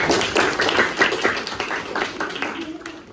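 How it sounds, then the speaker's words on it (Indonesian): Students in a science class applaud together: a quick, dense patter of many hands clapping that fades toward the end, with voices mixed in. "Beri aplaus dulu buat kita semua."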